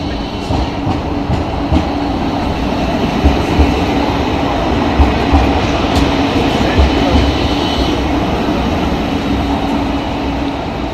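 A tram train rumbles loudly through Karlsruhe's city tramway, heard from inside, a steady low roar with faint rhythmic clicks of wheels over track and occasional soft squeals.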